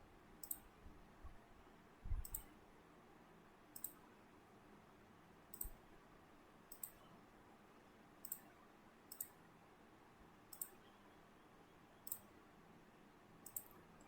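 Mouse clicks at a computer during a beginner's stock-market trading lecture, about a dozen sharp isolated clicks spaced roughly a second apart, faint and close, over a quiet room hum with no talk.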